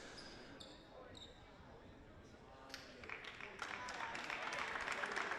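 A crowd reacts at a high school girls basketball game in a gym, a murmur that swells into louder cheering and scattered claps toward the end, with court noise and a commentator's voice over it.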